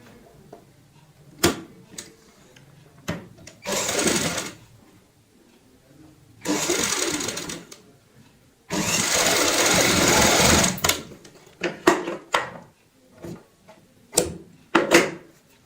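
A sewing machine stitches a fabric cushion cover in several separate bursts, each a loud steady whir lasting one to two seconds, with quiet handling clicks and fabric shuffling between runs.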